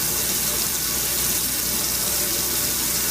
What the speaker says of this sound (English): I'm just gonna add a liter of water. I'm gonna use pretty hot water as well.